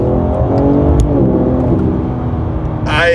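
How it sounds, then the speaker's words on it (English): A 2022 BMW M4 Competition coupe powers out of a corner under throttle, its engine a steady, loud, rising drone with layered harmonics filling the whole span, close and continuous with a brief click near the end. "We go into M2, come through the corner, on the throttle."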